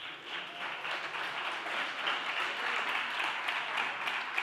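Audience applause during a podcast event, a dense steady wash of clapping at moderate distance that holds evenly throughout.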